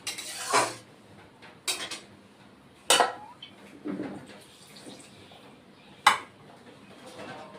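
A cooking pot of jhinge aloo posto being handled and covered with a lid, with several sharp metallic clanks and taps spaced apart, close and moderately loud over a quiet kitchen background.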